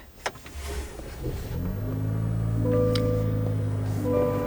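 A 2024 Chevy Colorado truck engine starts up after a click and a short crank. It catches into a loud, steady idle with a low rumble and a rising hum that settles and holds close by.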